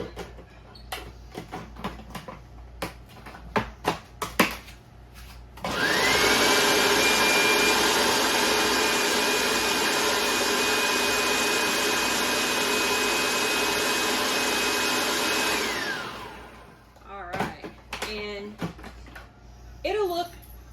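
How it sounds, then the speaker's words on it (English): A food processor chops food in a home kitchen, a loud steady whirring motor running for about ten seconds, with clattering and knocks before and after. "Just give it a rough chop so that you can just throw it in your food processor."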